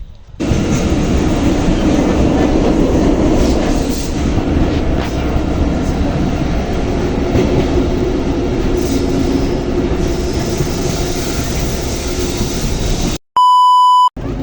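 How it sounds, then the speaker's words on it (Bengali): A train pulls into a station on the way to Rajbari, its wheels and carriages rumbling loudly and steadily throughout, ending with a few sharp electronic beeps close by. "ট্রেনটা আসুক, তারপরে আপডেট জানাইতেছি।"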